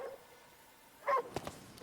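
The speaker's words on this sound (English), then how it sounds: "There's a dog down there we can feed." A dog in a video game gives one short bark and then a couple of quieter yips, close and brief against a faint, quiet background.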